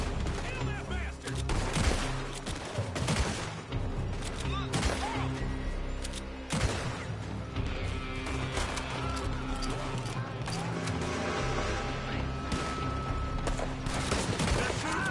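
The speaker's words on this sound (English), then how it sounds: "They're shooting from that building." Enemy gunfire in a Red Dead Redemption 2 shootout, dense and continuous rapid shots and crackling volleys with impacts throughout, loud and layered over game sound with no pauses.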